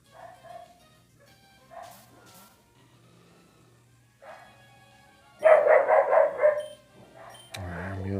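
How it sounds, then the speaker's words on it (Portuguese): Dogs bark at night in a Brazilian neighborhood, a few scattered distant yips followed by a louder burst of repeated barking nearby, with a car engine rising near the end. "Só a cachorrada tá maluca."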